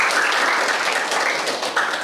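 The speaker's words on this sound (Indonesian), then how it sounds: "Tepuk tangan ya." Steady, loud applause from a crowd, continuous clapping throughout with no voices.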